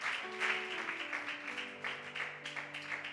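Church congregation applause, a soft roomful of clapping with organ or keyboard tones sustained underneath, quiet and steady throughout.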